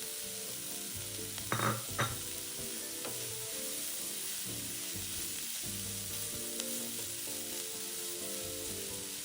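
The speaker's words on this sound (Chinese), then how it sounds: "炒至洋葱与黑胡椒粉溢出香气后，再将备好的叉烧也加进来。" Onion, black pepper and char siu stir-fried in a pan give a soft, steady sizzle with a couple of brief scraping stirs early on, fairly quiet and close, no speech.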